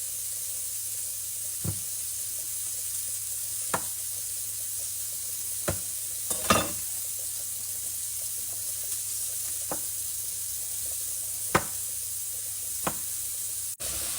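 Potatoes and mixed vegetables with tomatoes frying in a pan, a steady close sizzle throughout, broken by several sharp spatula scrapes and taps spaced a couple of seconds apart.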